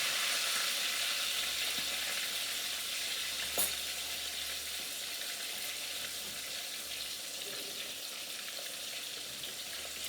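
Fish frying in oil in a Dutch pot, a steady close sizzle and crackle running throughout, with a brief clink of a fork against the pot partway through and no talking.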